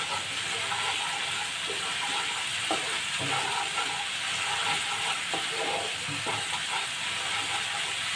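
Sliced onions fry in refined oil and ghee for a biryani gravy, giving a steady, even sizzling hiss that holds close and constant throughout with no talking.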